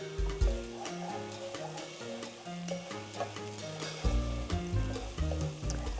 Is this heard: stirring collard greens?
yes